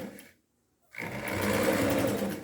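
Sewing machine running a short reverse backstitch while making a hand-stitch-style seam, a brief whirr, then a pause of silence before the motor resumes with a steady, close, continuous hum.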